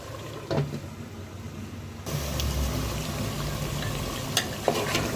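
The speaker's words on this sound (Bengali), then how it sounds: "এখন আমি ঢাকনা দিয়ে কষানো দিব।" Meat roast cooks in a pan with Radhuni ready-mix roast masala, a steady close sizzle and bubbling that jumps louder partway through, with a few light clinks of stirring and no voices.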